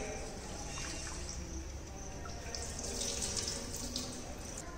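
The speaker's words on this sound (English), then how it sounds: "We have to wash rice." Rice is washed under a running kitchen tap, a steady close rush of water splashing into a sink that continues unbroken throughout.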